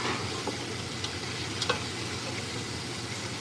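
Basil, garlic and oregano spaghetti sauce cooking in a pan, a steady close sizzle with occasional soft stirring scrapes, no talk.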